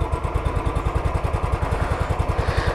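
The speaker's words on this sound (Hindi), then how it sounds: "और राइट तरीका क्या है, बिल्कुल हल्का हल्का रेव दो, बिल्कुल हल्का" A Royal Enfield motorcycle engine is revved lightly and gently, its steady thumping pulse close and loud with an even rhythm that holds at low rpm.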